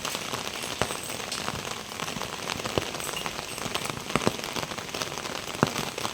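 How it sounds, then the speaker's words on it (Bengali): Heavy rain pours down outside a home, a dense, constant roar of drops hitting surfaces with scattered sharper drips and splashes throughout, loud and close with no voices. "প্রচুর জোরে বৃষ্টি নেমে গেল গো।"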